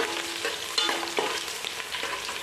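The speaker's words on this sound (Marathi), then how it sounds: "लसूण मस्तपैकी ठेचून घेतलेली आहे ती आता लाल करायची" Crushed garlic frying in oil for spicy poha chivda, a close, steady sizzle with scraping stir strokes and small crackling pops, no voices.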